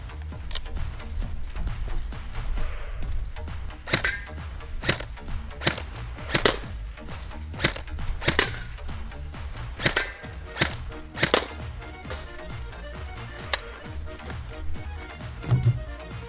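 A BY-023 AK-47 style airsoft rifle rated near 440 FPS fires about a dozen sharp semi-auto shots, loud and close, spaced unevenly a second or so apart with no talking.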